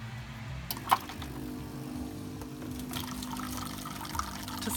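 A Saeco coffee machine dispenses hot water for a long black, a steady liquid trickle and fill running throughout, with a brief click near the start and a faint mechanical hum underneath.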